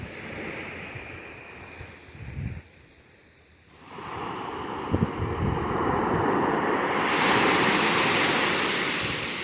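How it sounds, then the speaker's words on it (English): Calm Atlantic ocean waves washing onto a beach, a steady hiss of surf that dips briefly and then swells into a broad, continuous rush, with some wind buffeting the microphone. "Those waves are calm,"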